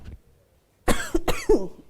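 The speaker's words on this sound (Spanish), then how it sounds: "No estornudar, toser." Two sharp coughs close together, near and fairly loud, after a brief quiet stretch.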